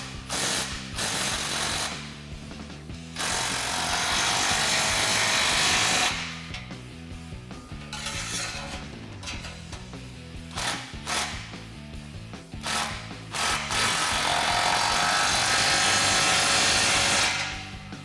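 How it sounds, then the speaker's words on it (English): A ratchet with a 16mm socket tightening exhaust clamps on a 2016-2023 Camaro cat-back system, loud rapid clicking in repeated bursts separated by short pauses, close and with no talking. "And we'll be tightening those down with the same 16mm socket."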